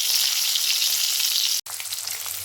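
Bottle gourd leaf fritters fry in oil in a pan, giving a steady, close hiss and sizzle with one brief break and a few soft stirring knocks.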